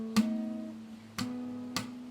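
A fingerstyle guitar thumb slap lands together with the open third string, three sharp percussive hits, each followed by a ringing note, quiet and close with no talking.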